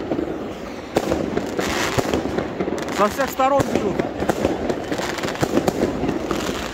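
A fountain firework going off outdoors at a 2022 New Year celebration, giving a steady crackling, sputtering spray with sharp pops, under excited talk from nearby people.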